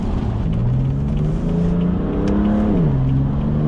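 A BMW F80 M3 with a Bootmod3 stage 2 tune revs hard in the wet, a loud close engine note that climbs, dips briefly, then rises and settles again under a steady roar.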